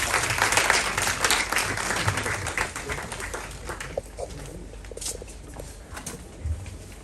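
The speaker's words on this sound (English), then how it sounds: "They deserve another round of applause, please." Audience applause at a Ghana health and labour summit, loud dense clapping at first that gradually thins and fades over several seconds.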